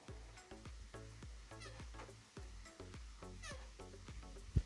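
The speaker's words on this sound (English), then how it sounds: "I'm in my rocking chair outside, and it squeaks when I rock" Faint rhythmic squeaking from an outdoor rocking chair, a quick run of short gliding creaks repeating with each rock, quiet and steady without speech.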